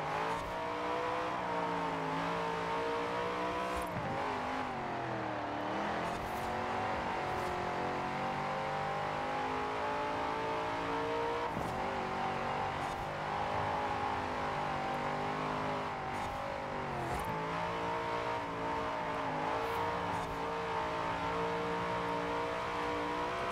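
A Chevy Camaro muscle car races in the Forza Horizon 4 game, its engine droning loud and steady with repeated rising revs and dips at gear changes, no voices over it.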